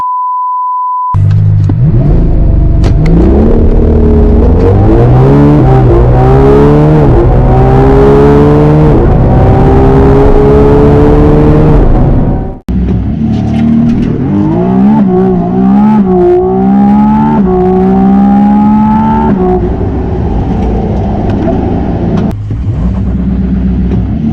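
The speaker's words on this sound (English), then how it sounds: "listen to the F80 and the 296 cabin noise side by side next to the 12 Cilindri" Loud V12 engine roar from inside a Ferrari cabin, the pitch climbing steadily as it revs through the gears, cutting off briefly before building again.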